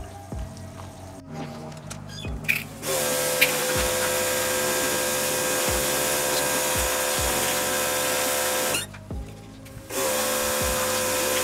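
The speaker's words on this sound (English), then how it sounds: "I'm just going to be using a brush, stuff like that, just to scrub this thing down" A brush scrubs dirt off a Yamaha Banshee ATV frame during a frame cleanup, producing a loud, steady rasping whir that holds for about six seconds, then returns briefly after a short pause.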